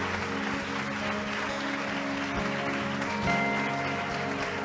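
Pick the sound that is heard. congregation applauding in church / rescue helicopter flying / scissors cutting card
congregation applauding in church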